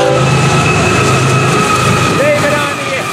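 Florida East Coast locomotive FEC 101 rumbles past in the evening, a loud, steady roar of engine and wheels with sustained tonal whines throughout.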